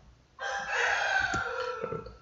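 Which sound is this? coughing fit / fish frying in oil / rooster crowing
rooster crowing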